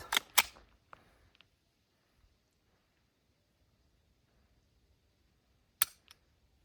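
Pistol shots at an outdoor shooting range during a penetration test: two sharp, loud bangs in quick succession, then a long quiet stretch before a single further crack.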